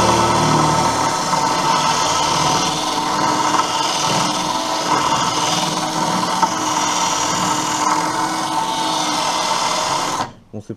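Ordinary metal drill bit boring out spot welds on a Citroën 2CV chassis, a sustained grinding, scraping whine that stays loud and steady before cutting off abruptly near the end.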